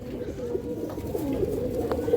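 Large pigeons coo near at hand, low throaty calls repeating over a soft room murmur, with no talk over them.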